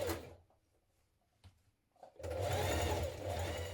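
A sewing machine top stitches a flat fell seam toward the back yoke of a jean jacket, a close, steady mechanical whir starting after a couple of quiet seconds with a few soft handling knocks.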